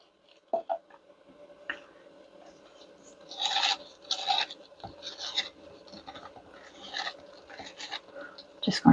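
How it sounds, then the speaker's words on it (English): Scraping the sides of a glitter container produces intermittent rasping scrapes, close and moderately loud in short bursts, with quiet gaps between them and no speech. "Just going to scrape these sides and see if there's enough glitter in this"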